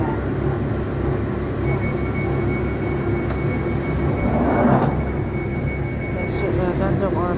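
London Underground Northern Line train at Clapham North's narrow island platform, a continuous loud rumble and whine of the train moving through the station, with faint voices and announcement tones over it.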